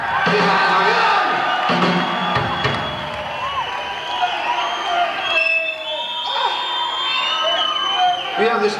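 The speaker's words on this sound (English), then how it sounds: "give yourselves a round of applause" A rock concert crowd at a 1987 Nazareth show in the Hammond Civic Centre roars with sustained applause, cheering, whoops and whistles, loud and continuous throughout.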